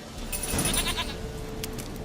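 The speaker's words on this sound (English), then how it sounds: "Here, goat." A goat in The Witcher 3 bleats once, a short wavering cry over a steady background hum with faint electronic tones.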